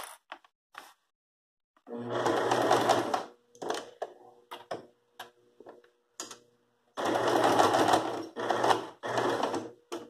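A sewing machine stitches a straight seam along a dish towel hem, running in two sustained bursts with short clicks and pauses between them, close and fairly loud with no talk.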